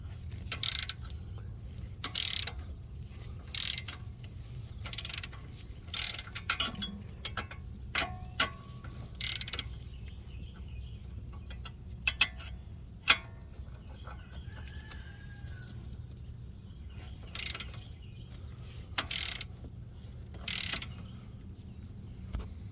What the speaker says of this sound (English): So we're loosening from this nut side, 21.